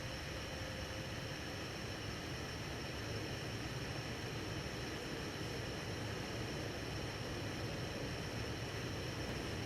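A Hunter Original 52-inch ceiling fan from April 1995 runs on medium speed, giving a steady, unbroken whoosh of moving air with a faint constant hum, close and uniform for the whole stretch.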